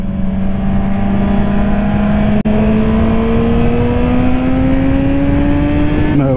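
A 2022 Suzuki GSX-R 750 on a highway, its engine note climbing steadily as it pulls hard through a gear, loud and close, with a brief shift gap partway through and another shift near the end.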